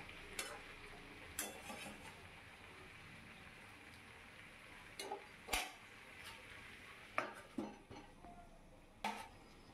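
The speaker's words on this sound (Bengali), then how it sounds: "আদাটাকে মিশিয়ে নিতে হবে সবজির সাথে, ভালো করে কষিয়ে নেওয়া হবে" Vegetables and ginger are sautéed in a pot for khichuri: faint, intermittent scraping and clinking stirs spread across a quiet, low background hiss, with no talking.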